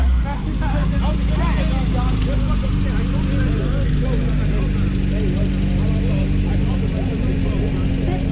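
A B-series nitrous Honda EG hatchback engine drones steadily and loudly at a garage sale shootout event, the continuous engine roar filling the whole stretch, with voices talking over it throughout.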